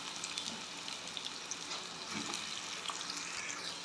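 Cut plantain frying in oil with mustard and fennel seeds: a steady, hissing sizzle close by, continuous and even throughout, with faint crackles and no talking.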